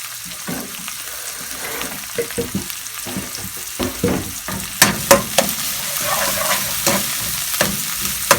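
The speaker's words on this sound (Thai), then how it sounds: "เราจะผัดคะน้าหมูกรอบ" Chinese kale with crispy pork stir-fried in a pan, a continuous sizzle broken by sharp scraping and clanking of a spatula tossing the food, growing busier toward the end.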